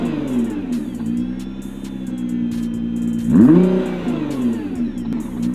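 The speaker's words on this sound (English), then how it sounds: "Stock exhaust, go for it." Stock-exhaust Nissan GT-R R35 engine revving, a steady loud idle-like drone that swells into a sharp rev around the middle before settling back, close and alone with no talk.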